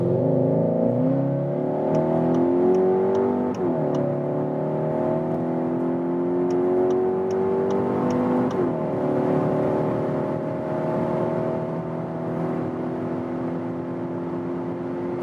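Skoda Octavia RS iV plug-in hybrid, with electric boost and petrol engine working together, accelerates hard toward 170 km/h, its engine note climbing steadily through gear changes, loud and continuous inside the cabin.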